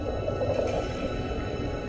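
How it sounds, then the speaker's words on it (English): A small porcupine fish bleats underwater using its swim bladder, a low, muffled groaning tone sustained over a constant hiss of water, with no talk. "Even this little porcupine fish bleats around. It creates this sound with its swim bladder."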